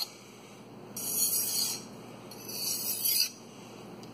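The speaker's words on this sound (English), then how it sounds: "Let's clean that burr off." A knife edge is cleaned of its burr with two bright, hissing scraping strokes, each lasting about a second, close up against a quiet background.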